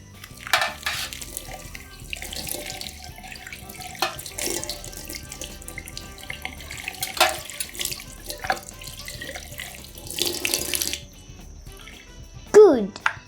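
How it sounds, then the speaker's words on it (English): A spoon rinsed under a running kitchen tap while hand-washing dishes, with water splashing in uneven bursts and a metallic clink near the end, close by, and speech heard around it. "Now let's rinse the spoon."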